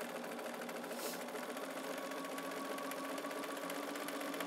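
A domestic sewing machine runs steadily while quilting straight rows of stitching, a continuous close mechanical whir with a fast even rhythm and no pauses.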